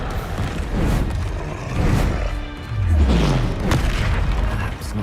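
Expelliarmus spell cast in Hogwarts Legacy, heavy booming impacts and crashing swells in two waves over several seconds, loud and close, with no talk.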